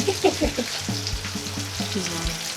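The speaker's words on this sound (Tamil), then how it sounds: "கொதிக்குது மீன்." Sankara fish sizzles and crackles steadily in hot oil, with a few louder pops and clinks at the start; no one speaks.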